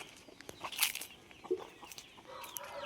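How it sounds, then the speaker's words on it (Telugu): Chickens on a green, tree-shaded village farm cluck in scattered short calls at a distance, faint amid outdoor ambience and rustling. "చూడు, కోళ్ళు"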